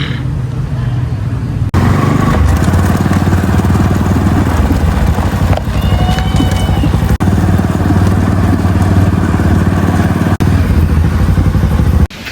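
A Bajaj Pulsar NS 200 motorcycle engine runs loud and steady close by on a street in Nicaragua, its rough, continuous drone lasting throughout with faint clatter.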